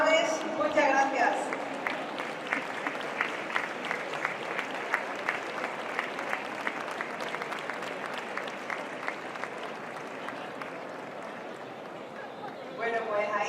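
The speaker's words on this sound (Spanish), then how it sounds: "ahí queda ese aplauso para los músicos del Sol" Applause for the musicians of a brass and percussion band after a concert, sustained clapping for about twelve seconds that gradually thins, with a voice speaking at the start and end.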